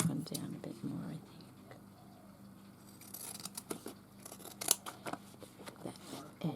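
Close, quiet snips of scissors trimming paper for a vintage floral journal, scattered crisp cuts with light paper rustling and soft whispered talk.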